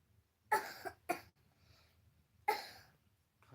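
Three sharp coughs in close succession, two quick ones then a pause before a third, close by and fairly loud over quiet background hum.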